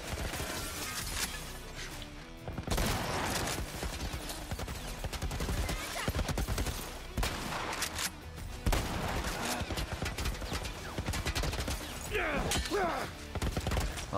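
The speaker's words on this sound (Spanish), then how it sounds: "¿Con qué cosa te estás disparando? Desde una torreta militar." Dense, sustained rapid bursts of military turret gunfire in The Last of Us, loud and close, with crashing impacts and brief pauses, and a voice shouting over parts of it.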